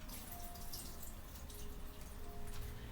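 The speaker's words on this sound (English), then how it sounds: "let me rinse this off again. I always double rinse my vegetables." Vegetables are rinsed under running water at a kitchen sink, a soft, steady wash of flowing water with light drips, quiet and continuous.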